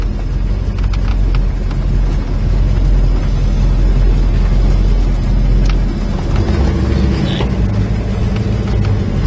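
A 1970 Plymouth Superbird-style car idles outdoors, its engine a loud, steady low rumble that runs the whole time with no talk over it.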